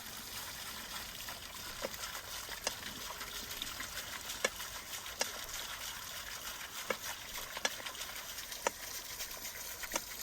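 Water flowing at an outdoor campfire cooking scene, a faint, steady trickling wash with scattered soft clicks and drips throughout.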